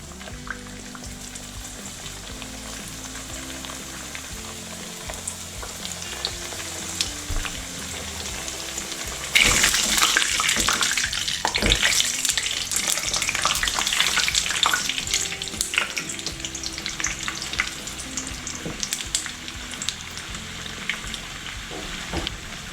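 Meatless chebureki pastries made from choux-style dough fry in oil, giving a continuous crackling sizzle that grows louder and busier midway, with popping bubbles and occasional clatter.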